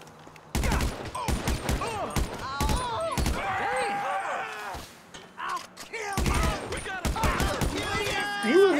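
Bursts of gunfire crack out in a shooter video game mission near an RV, several sharp volleys in quick clusters over game music, with a voice talking between them.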